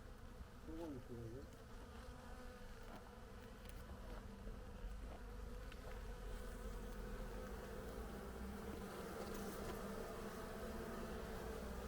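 Bees buzz steadily at an opened Carniolan breeding hive box, a dense continuous drone held close throughout, with faint human sounds in the background.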